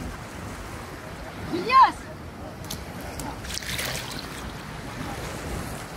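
Sea waves wash on Ajman beach at night as a person swims: a steady, soft roar of surf mixed with wind noise on the microphone. A short excited shout and some talking rise above the water.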